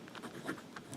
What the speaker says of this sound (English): I'll just write that down